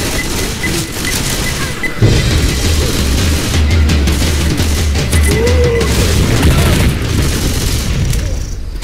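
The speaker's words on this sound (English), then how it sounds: "Grenade!" A grenade explodes in a Left 4 Dead 2 firefight, a loud booming blast followed by sustained rumbling and crackling gunfire that fills the whole stretch, with game voices calling out faintly beneath.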